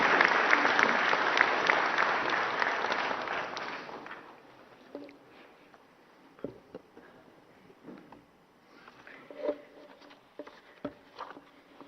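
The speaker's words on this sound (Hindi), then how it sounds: "जोरदार तालियां माननीय राष्ट्रपति महोदया के लिए।" Dense applause from an audience at a national energy conservation award ceremony for the President of India, loud for about four seconds, then thinning into scattered claps and faint room noise.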